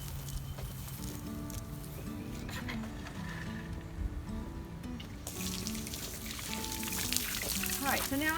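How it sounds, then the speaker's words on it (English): Water hose running steadily as it soaks down a straw bale garden and wood chip ground cover outdoors, a continuous rushing pour that grows brighter and louder in the second half, with faint talk underneath. "now I'm just going to soak down the whole area with the water hose"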